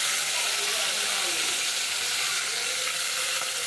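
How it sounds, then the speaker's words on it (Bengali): Dried fish goes into hot oil in a pot with onions, producing a dense, unbroken frying hiss that stays loud and even throughout. "স্যাবা শুটকিগুলো এখন আমি সবগুলো তেলে দিয়ে দেবো।"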